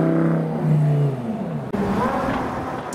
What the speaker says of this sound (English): Downshift from the 458.